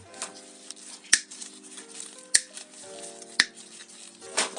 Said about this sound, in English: And then just cut the ends off.